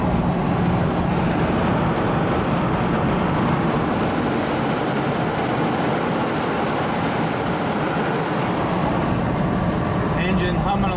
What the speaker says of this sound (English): Engine humming along at